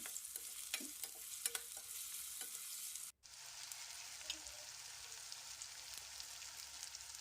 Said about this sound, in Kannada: ಟೊಮೊಟೊ ಹಾಕಿ ಕಲಿಸ್ಕೊಳ್ಳೋಣ ಇದನ್ನು